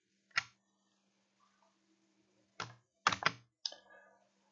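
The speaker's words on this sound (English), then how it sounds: "you just hit the shift and then your arrow keys" A computer keyboard gives four sharp, close key clicks, shift and arrow keys pressed one at a time with quiet gaps between them and no talk.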